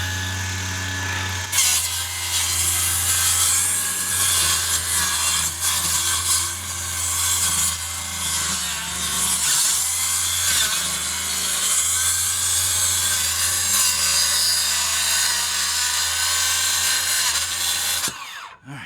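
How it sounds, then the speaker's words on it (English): A saw cuts through deck boards just beside the nails in one loud, continuous, grinding stretch lasting about seventeen seconds before it stops abruptly. "let me see if I can cut just to the side of those nails"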